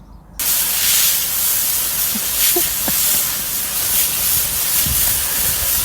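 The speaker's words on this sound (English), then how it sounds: "clean the mold off with this water hose" A water hose sprays hard and steady to clean mold off a surface, a loud continuous hiss that starts abruptly and runs without pause, with faint spattering against the surface.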